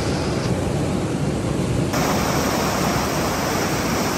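Fast-flowing autumn mountain stream with strong currents and foam in high water, a loud, dense, continuous rushing roar heard up close, with no voices.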